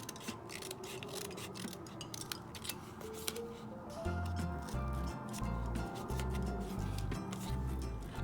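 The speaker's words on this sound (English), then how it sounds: "what we're simply going to do is cut off these end pieces" Scissors snip the end pieces off a scored sheet of cardstock for a candy box, with several crisp cuts over a steady low background hum that grows louder partway through.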